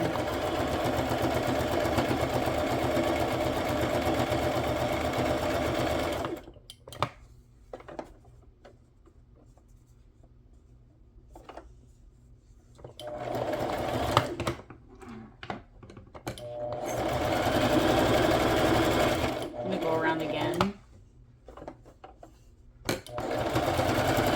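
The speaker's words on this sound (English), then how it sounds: "I had this already in my sewing machine" A sewing machine runs in steady stretches of rapid mechanical stitching, stopping and restarting several times with brief quiet gaps and small clicks between runs.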